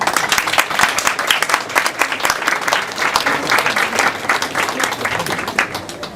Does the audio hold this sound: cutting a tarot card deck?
no